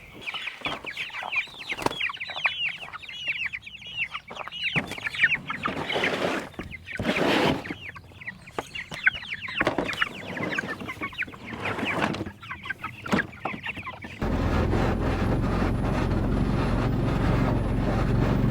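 Meat chickens cluck and squawk repeatedly nearby in busy bursts on a farm, then a steady mechanical hum takes over near the end.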